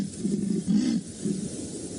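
Female leopard called Shadow giving short, low, rough contact calls to her cub on an afternoon safari drive, a few throaty rasping pulses repeated at close range with no talk.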